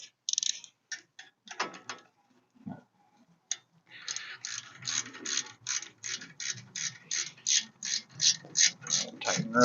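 Ratcheting clicks from tightening pins on a 1959 Ford F100, a few sparse clicks at first, then a steady run of close, quick rhythmic ratchet strokes.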